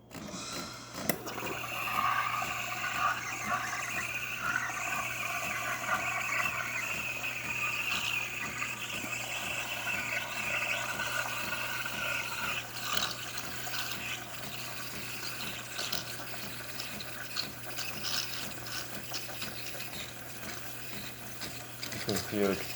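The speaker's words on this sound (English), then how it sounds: "today we're frothing the milk." DeLonghi espresso machine steam wand frothing milk, a steady hiss and gurgling rush that holds for the whole stretch, fairly loud and continuous, with a low hum from the machine beneath.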